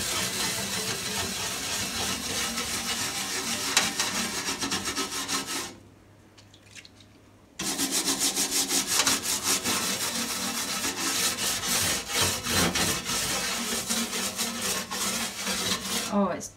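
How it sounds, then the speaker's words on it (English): Stiff scrubbing brush worked back and forth over an old antique stove with soapy water, rapid close rasping strokes that pause briefly midway, then resume vigorously. "I've just got some soapy water here because I don't want to destroy the paint. And I've just got a scrubbing brush just to get in the cracks."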